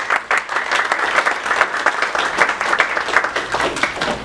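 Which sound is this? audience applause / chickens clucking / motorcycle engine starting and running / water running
audience applause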